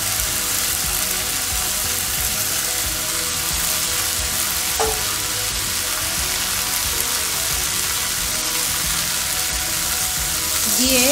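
Boiled cabbage and vegetables being stirred into fried masala in a hot pan give a loud, dense, continuous sizzle close by, with a spoon scraping and a brief clink near the end.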